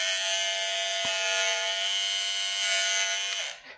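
A modified AliExpress hair clipper with swapped blades runs loudly and steadily with a harsh high-pitched buzz for several seconds, then winds down at the end.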